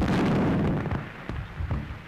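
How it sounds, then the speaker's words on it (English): Artillery shells bursting in a loud, dense rumble of overlapping low booms, fading into scattered thuds and crackles. "But what were those explosions? Shells, my dear."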